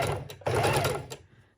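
A sewing machine stitches raw-edge fabric on a junk journal tag in a short close burst of rapid whirring, cutting out briefly before it slows and stops.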